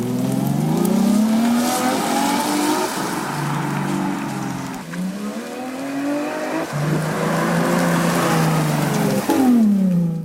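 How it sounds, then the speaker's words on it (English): Tesla electric car fitted with a fake combustion-engine sound system, producing loud, continuous simulated engine revving with rising and falling pitch sweeps, like aggressive acceleration and gear changes, alone with no talking. "gets wired into your electric car to make it sound like your choice of angry combustion engines on the inside and on the outside"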